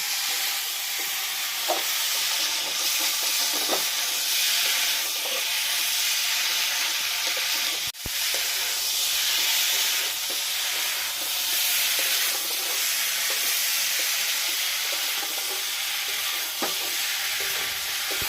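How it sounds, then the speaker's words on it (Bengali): Continuous loud sizzling and hissing of spices frying in a pan for a potato curry, with occasional stirring scrapes and a sharp clack midway. "মশলাটা ভাজা হয়ে গেল"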